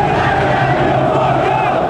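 A football stadium crowd of Atlético Mineiro supporters sings together in a massed, sustained chant, loud and continuous with a steady droning tone and no break.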